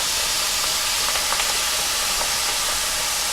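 Garlic sizzles in a hot pan alongside pork, producing a steady, close hiss of frying with faint crackles and no pauses.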